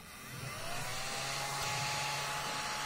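A Kiwi KVC 6905 vacuum cleaner spins up and runs with a steady whirring hum and airy hiss, fairly quiet and continuous, with no talking over it.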